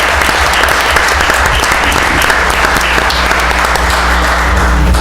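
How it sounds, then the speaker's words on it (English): Audience at a village board meeting applauds steadily and loudly for the full five seconds, a dense, even wash of clapping with no talk over it. "we are now adopting your resolution to New York State as a climate smart community, and we applaud you"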